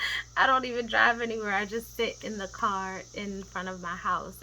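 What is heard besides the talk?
cicadas buzzing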